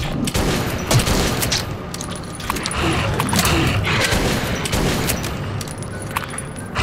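Rapid bursts of shotgun fire in the video game Metro 2033, loud, dense blasts repeating over several seconds with no talk.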